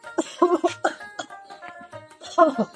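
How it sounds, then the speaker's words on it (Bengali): A man coughs in several rough, voiced bursts during a short domestic comedy scene, mixed with brief speech. "কয়দিন ধরে দেখছি তুই খুব কাশি"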